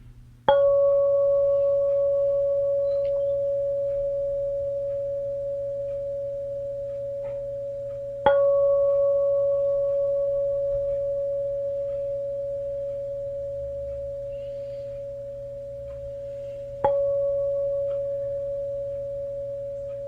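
Octave resonance healing tone: a pure, steady sine-like tone struck three times at even intervals, each onset bright with a faint click and overtone, then slowly fading while sustaining alone in near silence.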